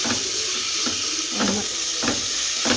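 A salted mixture is being stirred in a frying pan, with a soft, steady sizzle broken by about five regular scraping strokes of a spoon, heard close up with no talk.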